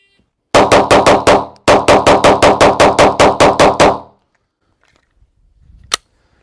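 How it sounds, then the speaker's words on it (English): A Glock 19 Gen 5 pistol is fired rapidly through a 17-round magazine. Loud, close shots come in one quick string, a brief pause, then a second steady string, followed by near silence and a faint thump. "Let's see if I can rip through a mag and see if the gun will keep up with me"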